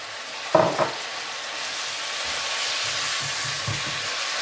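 Pork with Thai basil in a hot wok, a steady sizzle with a couple of sharp utensil knocks early on, then soft stirring scrapes under the hiss; close, no talking.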